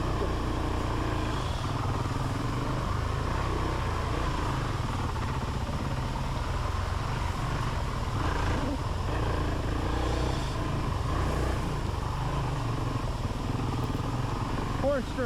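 A 450L four-stroke dirt bike rides across an off-camber hillside, its engine a steady close drone throughout with outdoor noise, while a person talks over it.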